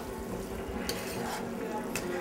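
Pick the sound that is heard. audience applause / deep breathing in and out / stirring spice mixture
stirring spice mixture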